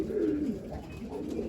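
Young racing pigeons coo inside a loft, one near, clear rolling coo over a soft background of other birds and faint rustling, with no one speaking.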